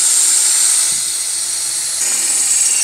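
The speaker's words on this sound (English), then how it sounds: "I'm gonna drill a pilot hole first." A high-pitched drill whines continuously and loudly as it bores a pilot hole into metal, its tone shifting slightly partway through.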